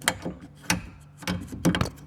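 Mechanical clicks and ratcheting clacks come from opening the rear breech of the gun on a 2/5-scale Sherman M4A3E8 tank model, several short close metallic snaps over about two seconds.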